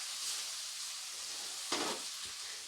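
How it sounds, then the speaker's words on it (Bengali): Onions frying in a pan until reddish-brown for chicken pepper fry, a soft continuous sizzle with one brief louder scrape of stirring partway through. "পেঁয়াজটাকে ভালো করে লাল লাল করে ভেজে নেব"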